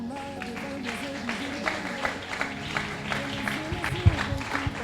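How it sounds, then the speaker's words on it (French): A church congregation applauds and cheers in steady, mid-distance clapping, while a preacher keeps talking over it. "On se met debout, on acclame."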